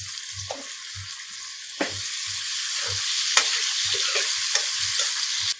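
Chopped onions with chilli frying in a pan until light brown, a steady sizzle broken by repeated stirring scrapes and knocks of a spoon, close and continuous.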